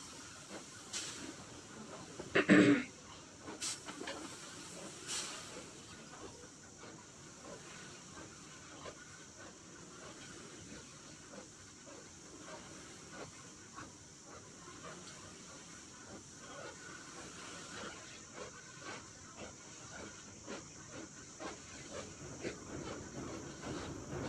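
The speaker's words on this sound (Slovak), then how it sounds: "My sme fakt vo vlaku." A train rolls along in the video game Poppy Playtime Chapter 2, a steady hissing rumble of rail travel that runs throughout, with one brief louder knock near the start.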